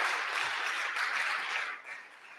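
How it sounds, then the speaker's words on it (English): An audience at a startup pitch night claps together, a dense burst of applause that holds steady for a couple of seconds before tapering off, with no voices over it. "So let's give them a round of applause."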